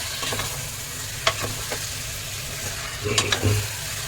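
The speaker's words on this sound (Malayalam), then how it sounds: "ചിക്കൻ ഒരു രണ്ട് മൂന്ന് മിനിറ്റ് വരെ നന്നായി ഇട്ടിട്ട് കണ്ടിന്യൂസ് ആയിട്ട് ഇളക്കി കൊടുക്കുക" Marinated chicken frying in a pressure cooker for biryani while being stirred: a steady close sizzle runs throughout, broken by a few scraping stirs and soft utensil knocks, with no talking.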